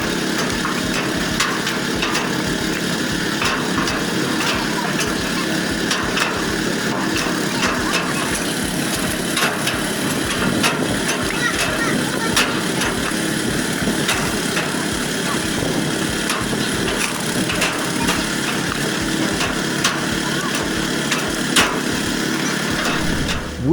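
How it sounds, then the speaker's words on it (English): Wood splitter fitted with a logger gearbox for four operators, splitting firewood: a steady, loud mechanical engine drone with repeated hard knocks and cracks of wood throughout, with no pauses. "the wood splitter has a logger gearbox for 4 operators to help increase productivity many times"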